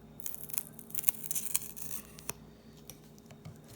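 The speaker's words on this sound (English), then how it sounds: "let me cut an angle as well with this scissor" Scissors snipping through thin glider material, a run of quick, close cuts with sharp crisp clicks, then a few sparser snips as the cutting tapers off.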